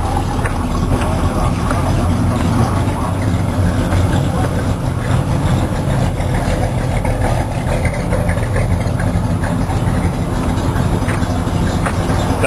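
A Chevrolet V8 with Ram Air and a W31 cam, rated at 366 horsepower, idles at a drive-in car show, giving a loud, steady, continuous rumble that fills the whole clip with outdoor background noise.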